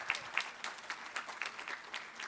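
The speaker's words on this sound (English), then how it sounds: "please, round of applause." Audience at a school board of education meeting applauds, a steady patter of many hands clapping at moderate distance for a couple of seconds without talk.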